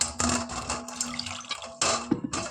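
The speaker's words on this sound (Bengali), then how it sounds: "প্রথমে ডিমগুলো খুব সুন্দর করে ধুয়ে নিচ্ছি" Eggs being washed by hand under a running kitchen tap, with a steady splashing stream that briefly cuts out and resumes, close and fairly loud.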